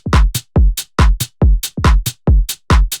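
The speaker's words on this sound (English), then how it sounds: "we go back to a standard drum beat that sounds like this" Standard house drum beat with a kick and a softer kick, handclap and open hi-hat, playing a steady loud four-on-the-floor loop with crisp hats between the kicks, no voices.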